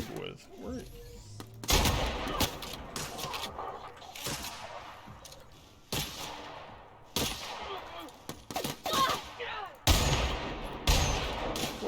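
Gunfire in the video game The Outer Worlds: several bursts of hitscan shots in uneven clusters, loud and close, with a player's voice talking over parts of it.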